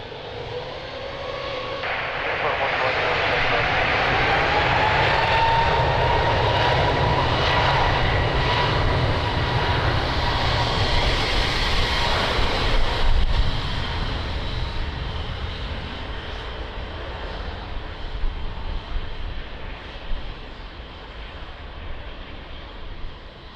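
Airliner taking off from runway 02 at Lisbon Airport on a windy day: a loud, sustained engine roar that swells over the first seconds, holds strongly, then slowly fades as the aircraft departs, with wind noise throughout.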